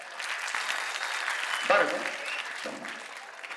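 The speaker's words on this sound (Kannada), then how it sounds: "ಜೋರ್ ಚಪ್ಪಾಳೆ" An audience at a Kannada film event bursts into loud, sustained applause for the dialogue writer, with a voice briefly talking over the clapping.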